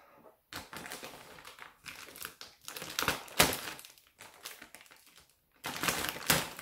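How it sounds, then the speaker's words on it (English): A filter patch is torn off a plastic Lion's mane mushroom grow bag, giving close, irregular crinkling and ripping bursts with short silent pauses. "I'm gonna rip the filter off"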